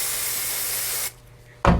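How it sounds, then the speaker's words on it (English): Wig wax aerosol sprayed onto a brush while styling a braided wig: a steady, close hiss lasting about a second, a brief pause, then a second short, loud burst of spray. "I'm going to spray some wig wax"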